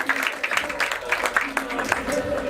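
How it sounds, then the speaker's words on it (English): A crowd at a VIP reception during the Zee London Mela 2018 applauds to welcome a guest. Dense, steady clapping runs throughout at moderate volume, mixed with murmuring voices. "A round of applause please for Ajay Chabra"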